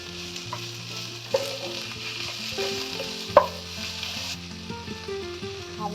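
Pickled cabbage stir-fries in plenty of oil in a wok, giving a steady, close sizzle with a few sharp spatula knocks and clatters, a loud one midway, and no talking.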